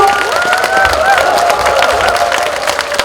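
Crowd at a congressman's constituency report meeting in Yeongju applauding and cheering his entrance, a loud, close roar of clapping mixed with raised shouting voices throughout.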